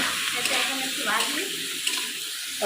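A pan of spice paste with cumin, potato, aubergine, salt and turmeric frying in a village kitchen, a steady hiss of sizzling with scraping stirring strokes, close and continuous throughout.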